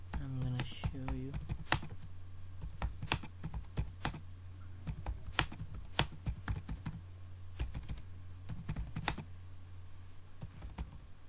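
Someone types code on a computer keyboard with quick, irregular runs of close, crisp key clicks and short pauses, at moderate volume, with no voices.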